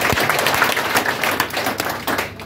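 A church congregation claps together for the Lord at a worship service, a dense, steady wash of many hands filling the room at moderate volume with no talking over it.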